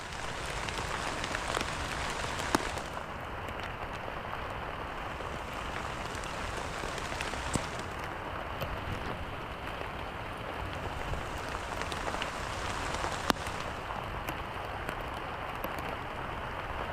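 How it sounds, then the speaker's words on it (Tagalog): Heavy rain falls steadily near a vegetable garden with bitter gourd vines, a dense continuous hiss of drops on surfaces with occasional louder splats, even in level throughout. "Malakas na ang ulan."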